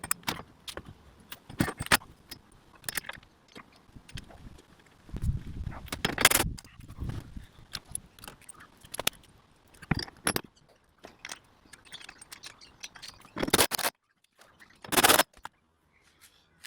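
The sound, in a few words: washers and bolts clinking while fitting a Hyundai i30 towbar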